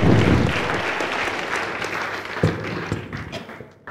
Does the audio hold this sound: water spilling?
no